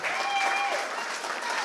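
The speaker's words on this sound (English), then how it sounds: "Let's give Derrick Adams a round of applause." Brief burst of audience applause for artist Derrick Adams at an in-studio talk, steady, close clapping from a crowd lasting under two seconds.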